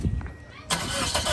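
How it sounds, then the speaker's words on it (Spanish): A Toyota Corolla with a broken muffler starts up: quiet low noise, then at about 0.7 s the engine catches into a loud, harsh, broadband roar that keeps running. A voice is faintly present. "así ya prendió el Corolla. Obviamente suena más duro el mofle porque pues está roto."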